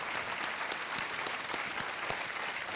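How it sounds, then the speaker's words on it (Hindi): A studio audience at an Indian television quiz show claps in a brief, steady burst of applause, moderately loud and even, with no talk over it. "तालियों के साथ इनका अभिनंदन।"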